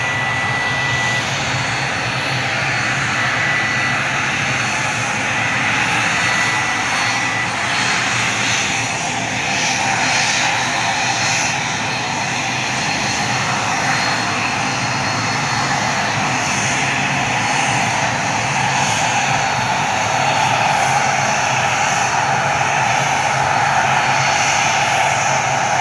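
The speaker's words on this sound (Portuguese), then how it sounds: "Isso tudo é o barulho da turbina" Steady, loud jet turbine roar from an aircraft at Leite Lopes airport in Ribeirão Preto, a continuous broadband whine and rush holding for the whole stretch with no speech over it.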